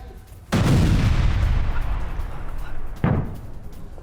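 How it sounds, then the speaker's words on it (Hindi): Two heavy blasts from an IED attack on a Pakistani army convoy in the Kurram area: a loud, booming burst that rumbles and slowly fades, then a second sharp blast about two and a half seconds later, with no talk. "कुर्रम इलाके में पाकिस्तानी काफिले में धमाका"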